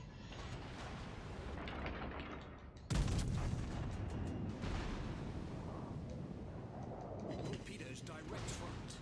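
Ship artillery fire in the naval combat game World of Warships Legends, with a sharp heavy boom midway followed by rumbling gunfire and distant blasts over continuous battle noise, with a voice talking faintly underneath.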